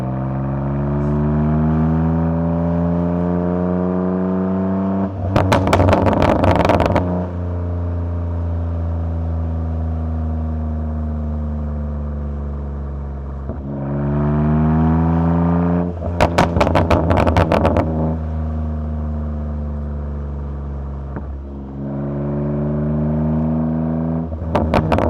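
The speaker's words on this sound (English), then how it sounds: "Second gear is when you have a lot of fun because these motors can rev pretty high" BMW G8x M4 engine and exhaust revving hard in second gear, repeated rising pulls that climb in pitch, each ending in a burst of crackling upshift pops, loud and close throughout.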